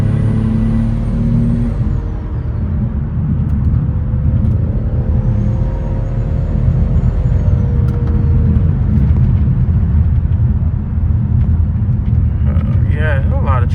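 BMW 540i driving in traffic with a worn tire, a loud continuous engine and road roar with rising whine as the wheel spins, and a voice talking over the noise near the end.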